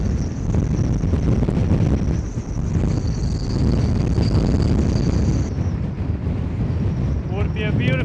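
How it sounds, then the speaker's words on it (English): Strong wind roars continuously over the microphone aboard a boat wintering in Greenland. The rumble is loud and steady throughout, with a faint high tone and a brief squeak near the end. "Would be a beautiful evening out if it wasn't for this freaking wind."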